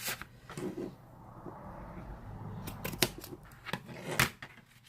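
Scissors trimming paper at an angle for a handmade receipt envelope, with soft crisp snips and rustling heard close and quiet.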